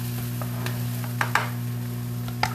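Sausages dropped onto onions already frying in a pan give a steady, close sizzle, with a few sharp clicks and scrapes from stirring over a constant low hum.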